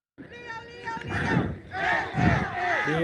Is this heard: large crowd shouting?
yes